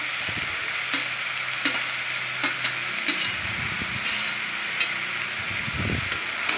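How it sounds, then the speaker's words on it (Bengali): Papaya, potato and carrot pieces fried earlier are stirred into chicken meat for a stew, giving a steady sizzle with repeated scraping stirs and light clicks of a utensil against the pot, close and without speech. "আলু পেঁপে গাজরের টুকরোগুলো ভালো করে নাড়াচাড়া করে নিলাম, মাংসের সাথে মিশিয়ে নিলাম"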